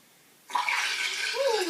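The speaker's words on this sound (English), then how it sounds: "Ooh, listen to that water." Bath water gushes and splashes into a tub, starting abruptly after a brief quiet moment and continuing loud and steady, with a rising tone as the tub fills.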